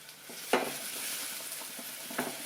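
Onions frying in a pan, a steady soft sizzle throughout with a couple of sharp clinks of a utensil stirring against the pan, close and alone without talk.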